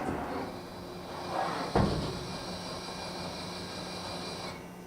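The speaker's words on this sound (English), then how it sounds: "Tool change." A 2008 Mori Seiki NH5000 machining center runs a tool change: a steady mechanical whir and hiss, a sharp clunk partway through, then the drone continues until it cuts off near the end.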